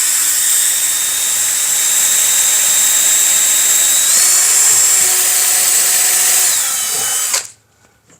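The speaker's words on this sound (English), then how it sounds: "a pre-hole drill." A power drill boring a pilot hole in wood, a loud, steady high whine held for about seven seconds with a slight pitch shift midway, then cutting off abruptly into near silence.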